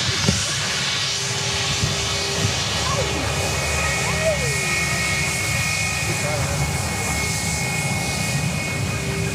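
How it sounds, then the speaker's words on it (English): A Jetstar Airbus A320 airliner passes at Sydney Airport with a broad, steady engine roar and hiss that holds throughout, while people talk over it. "Jetstar A320."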